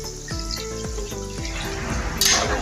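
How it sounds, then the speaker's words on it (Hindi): Water pours from a vessel into a pot of chicken, pea and potato curry, a close splashing and gurgling stream lasting a couple of seconds, with a brief clatter near the end. "इसके अंदर पानी डालना है"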